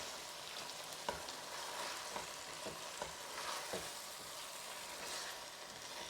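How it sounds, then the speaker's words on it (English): Peas being gently stirred into a potato curry in a hot pan over high heat, a quiet low sizzle with a few soft spoon scrapes spaced through it, close and faint with no talk. "And just gently stir those peas through"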